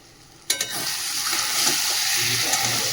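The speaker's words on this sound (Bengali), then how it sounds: "দিয়ে মশলাটা ভালো করে কষিয়ে নিই" Spice masala frying in a pan, a steady loud sizzle that starts with a sudden burst and continues evenly while being stirred, with no talking.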